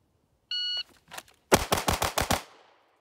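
A shot timer beeps once, then a CZ P10F pistol fires six rapid shots in a quick, even string, loud and close on an outdoor range, with no talking.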